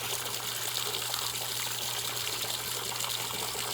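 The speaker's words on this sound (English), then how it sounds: "We got to fill up water." Steady rushing water pours continuously, a constant gushing stream like a tap filling a container, with a low hum underneath.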